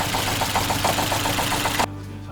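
A Ford Fiesta engine misfires during a cylinder test, idling loud and close with an uneven, lumpy pulsing beat before cutting out abruptly, leaving only faint background hum.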